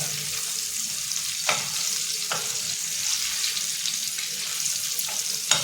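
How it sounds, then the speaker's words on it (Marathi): Mackerel (bangda) coated in semolina fries in a pan with a constant hissing sizzle, broken by a few sharp clicks of a utensil. "आता आपण इथे मच्छी फ्राय करतो. हे बांगडे आहेत आणि सौंदा आहे."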